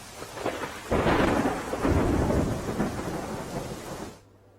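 Heavy rain pours down on Manavadar, Junagadh, while thunder rolls and rumbles loudly, then the sound cuts off abruptly.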